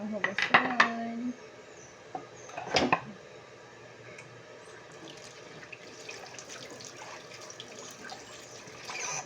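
A large pile of dishes is washed at a sink: running tap water, with clinks and clatters of plates and cutlery that are busiest at first and then settle into a softer wash.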